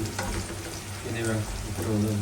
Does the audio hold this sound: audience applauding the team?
no